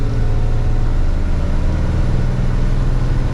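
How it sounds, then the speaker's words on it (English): Engine of a 13-year-old bus with 203,000 miles running steadily from inside the cabin, a loud continuous drone with a single rattle somewhere in the body. "The main noise now, apart from the engine itself, is that one rattle."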